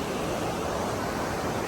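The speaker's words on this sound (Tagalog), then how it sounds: "Ayan o, rinig niyo yung tunog ng tubig." Flowing water in Zermatt, Switzerland, a steady broadband rush like a stream or river running close by, constant and fairly loud with no talk over it.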